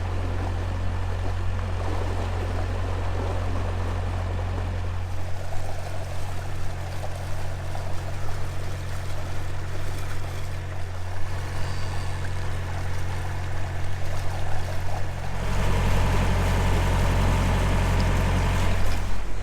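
A 16-ton narrowboat engine holds a steady low drone at about 1400 revs, continuous and fairly close, with a faint watery trickle alongside and a slight shift in tone partway through.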